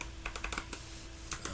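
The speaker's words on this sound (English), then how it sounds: "you hit Control on any one of these and you can type in a value" Fingers tap out a short value on a computer keyboard, a quick burst of about ten close, light keystrokes with uneven rhythm and a steady faint hum beneath.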